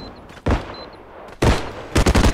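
Gunfire in the shooter game Bodycam: a single loud close shot, a second shot about a second later, then a rapid burst of several shots near the end, with no talking.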